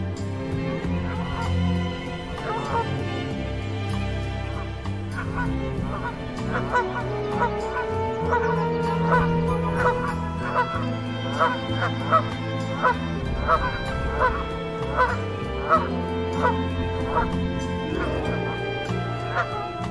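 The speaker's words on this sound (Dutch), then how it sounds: "Maar de grauwe gans zie je ook steeds vaker." A flock of greylag geese honking continuously, many overlapping calls near and far, with a steady background murmur throughout.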